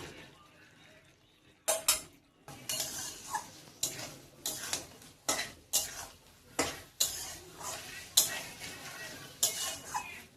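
Jackfruit pieces are stirred into a thick masala in a pan, a spoon scraping and clattering against the metal in a steady rhythm of sharp knocks over a faint sizzle, close by.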